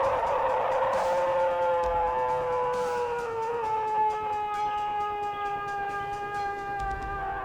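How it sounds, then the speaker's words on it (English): Long, deep howl in a quiet forest, one unbroken wailing tone that slowly falls in pitch and holds for several seconds, loud and steady with faint background noise. "A howl. Long, deep, impossibly loud."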